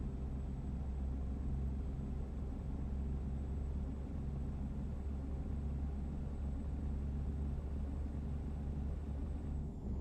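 A low, steady truck engine rumble in a video game drones continuously with a faint high whine above it, unchanging throughout, no voices.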